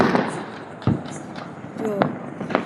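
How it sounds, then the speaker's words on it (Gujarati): Diwali firecrackers burst in a few sharp pops, one louder crack followed by scattered smaller bangs and a whistling streak, set against a busy festive background of distant crackling. "ફટાકડા ફોડવાની હમણાં બહુ મજા આવે ગઈ."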